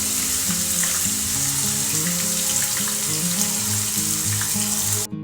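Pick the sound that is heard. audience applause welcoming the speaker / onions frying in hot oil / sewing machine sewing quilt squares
onions frying in hot oil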